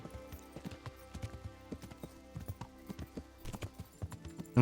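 Horse hooves clip-clop in a steady galloping rhythm in the medieval video game Kingdom Come: Deliverance, a run of sharp repeated hoofbeats over a soft game music bed, ending in a brief louder thump.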